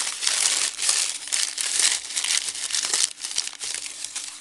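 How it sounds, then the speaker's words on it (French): A newspaper sheet is crumpled and scrunched by hand into a paper crown, giving dense, crackling crinkles in close, uneven bursts that continue throughout. "vous prenez votre feuille et vous faites une espèce de couronne"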